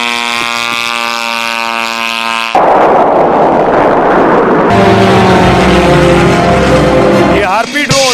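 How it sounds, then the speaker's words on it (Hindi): A Harpy attack drone flies overhead with a loud, droning propeller-engine roar, a buzzing harmonic whine giving way to a sustained rushing noise, with voices heard briefly. "ये हार्पी ड्रोन है।"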